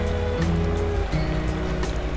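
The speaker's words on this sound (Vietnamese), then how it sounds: "Dòng thác này rất là đẹp, nó chảy ra ba nhánh và nó chảy róc rách xuống những cái từng tầng đá," An artificial waterfall in an Egyptian-themed café splits into three streams and babbles down tiers of rock, giving a loud, continuous rushing wash with a low rumble, heard up close without talk.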